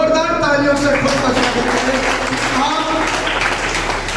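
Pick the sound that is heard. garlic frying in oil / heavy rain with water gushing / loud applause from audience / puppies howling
loud applause from audience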